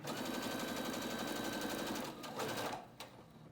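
A sewing machine stitches a half-inch seam in a triple-layer cotton mask, running at a fast, even rhythmic chatter for about two seconds before slowing and stopping, ending with a single mechanical click.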